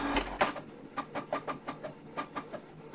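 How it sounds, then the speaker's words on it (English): A Canon PIXMA TR4522 inkjet printer prints a test page, its print head shuttling in a steady run of about ten regular mechanical passes, close and moderately loud, with no voices. "this is printing out a test print relatively fast"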